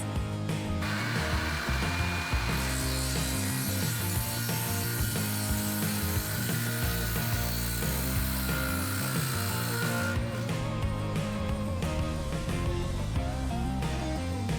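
Power saw cutting roof rafter boards to size for a shed roof, a loud sustained buzzing cut that drops away briefly then resumes, with no talking.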